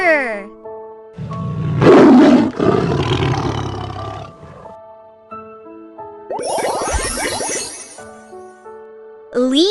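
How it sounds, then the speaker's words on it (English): A tiger's roar: a loud, close, rough growling burst that swells and fades over a couple of seconds, set against light background music, with a brief shout before it. "Tiger!"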